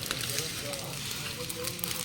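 Dry leaves gathered from around a housing society burn in an outdoor fire, giving off a faint, steady hiss with soft crackles and pops throughout.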